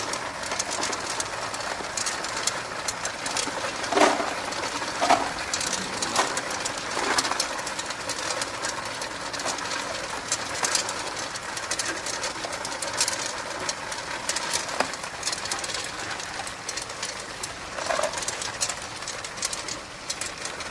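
A tube ice machine runs while making solid ice, giving a steady broadband mechanical whir with faint clicks and rattles throughout and no talk.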